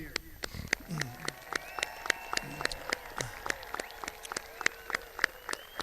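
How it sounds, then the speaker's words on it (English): At a university commencement ceremony, sharp, scattered claps ring out in a loose, regular rhythm, fairly faint and distant, while voices and tonal sounds carry on underneath. "let's have a great round of applause for our graduates right here"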